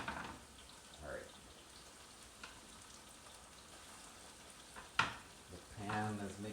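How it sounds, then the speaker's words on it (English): Pork sausage sizzles in a frying pan with a soft, steady crackle, broken by a few knife or utensil clicks and a brief sharper clatter near the end. "The pan is making a nice sizzling sound."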